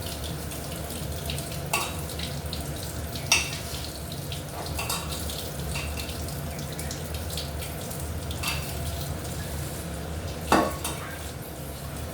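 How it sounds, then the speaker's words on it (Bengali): Running water rinses coriander leaves at a kitchen sink, a steady soft splashing flow with occasional light clinks of utensils, fairly quiet and continuous. "আমি ধনে পাতাটা ভালো করে ধুয়ে নিচ্ছি।"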